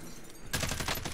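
Gunfire in the Call of Duty Warzone video game: a sudden loud burst of rapid shots breaks in halfway through after a quieter stretch and rattles on to the end.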